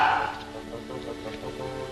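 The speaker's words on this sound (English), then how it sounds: "There's your dog, anyhow." A small dog in a bank lobby yaps a few times, faint and somewhat distant, mixed with a whimper amid background room noise and murmuring.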